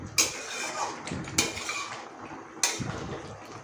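A spoon knocks and scrapes against a pan while mustard paste is stirred into a fish curry, with three sharp clinks spaced out over a low, steady background hiss.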